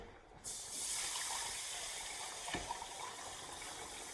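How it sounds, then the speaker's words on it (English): Milk poured into a butter and flour mixture in a home kitchen, a steady liquid gush and hiss running nearly unbroken for about four seconds with a faint clink partway through, no talking. "I'm going to pour the milk into the butter and flour mixture."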